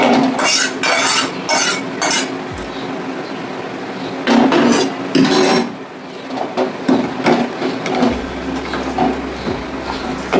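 Gobindobhog rice being stirred into boiled milk in a metal pot with a spoon or ladle, giving repeated scraping and clinking strokes in an uneven rhythm, close and fairly loud.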